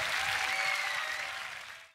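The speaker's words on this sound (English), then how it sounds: "Can I get a round of applause for Frosty?" Audience applause for a beatboxer at the Grand Beatbox Battle 2023 World League, a dense burst of clapping from a crowd that is steady, then fades out over two seconds.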